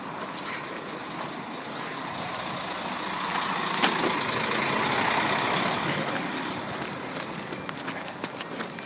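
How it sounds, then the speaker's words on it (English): A large bus manoeuvres nearby in a coach park at a visitor site, its broad engine rumble and air hiss swelling midway, with scattered clicks and distant activity throughout. "This bus is doing its little maneuvers."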